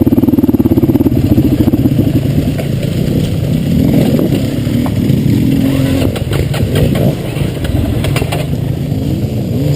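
A dirt bike whose idle has been set low, its single engine loud and close, chugging and revving unevenly and sagging as it slows under braking, with engine clatter throughout.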